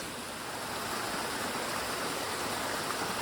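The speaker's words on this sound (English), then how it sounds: "People at camp said the water source was the top of the waterfall" A waterfall on the Appalachian Trail rushes in a steady, dense roar, close by and unbroken for several seconds with no voices.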